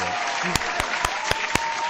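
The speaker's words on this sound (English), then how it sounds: "You get an applause for that one" Applause plays on a live comedy talk radio show. About five sharp, evenly spaced claps crack over a steady background hum.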